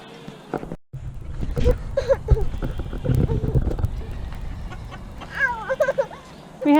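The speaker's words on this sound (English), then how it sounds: "We have a few small breed chickens" Small breed chickens clucking in a small cage at a homestead, a few short cackles mixed with other farm animal sounds and a person talking nearby.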